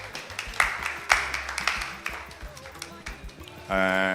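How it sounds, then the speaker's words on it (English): Scattered applause from a small audience at a panel talk greets the host, a few uneven claps over a low music bed, followed by a voice speaking at the end. "A round of applause for her."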